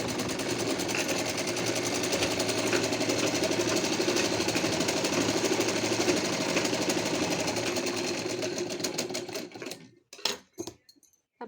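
Sewing machine stitching lining and outer fabric of a plain net party gown, a steady continuous whir running close and loud for about nine seconds before stopping, followed by a few short clicks and handling sounds.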